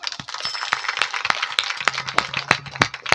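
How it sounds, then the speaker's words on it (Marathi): Audience applause at a Marathi kirtan, a quick burst of scattered claps growing denser, close and fairly loud, with no talk over it. "एकदा या माझ्या मायबाप श्रोतृवृंदांसाठी टाळ्या वाजवा"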